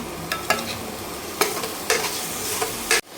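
Onion masala with salt frying in a pan, a loud close sizzle broken by repeated scraping strokes of a spoon against the pan, ending abruptly, with no voices.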